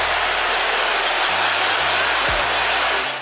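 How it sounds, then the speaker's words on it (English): An NBA arena crowd cheers loudly as Draymond Green eggs them on, a dense, roaring mass of voices that stays loud throughout and fades slightly at the end. "Green egging on the crowd."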